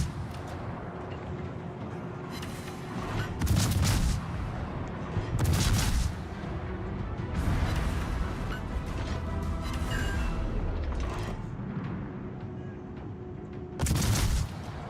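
Naval guns boom repeatedly in World of Warships, with heavy broadband blasts landing near 3.5, 5.5, 7.5 and 14 seconds over a steady rumbling battle backdrop.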